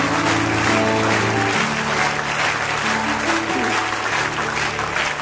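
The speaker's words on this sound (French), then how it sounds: "J'attends que tu acclames, j'attends que tu acclames." A church congregation applauding and cheering during worship, sustained loud clapping from many people with voices and a held musical tone underneath, filling the space continuously.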